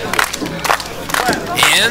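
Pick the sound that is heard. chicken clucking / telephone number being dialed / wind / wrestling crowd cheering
wrestling crowd cheering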